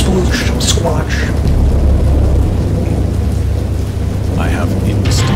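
A thunderstorm in the Lovecraft-inspired horror game Dagon: dense, loud rain with deep rolling thunder rumbling underneath throughout, while a voice talks over it.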